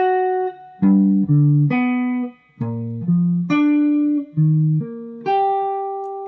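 Major triad shapes move through the chord changes, played alone as a run of clear, sustained pitched notes grouped in quick arpeggios.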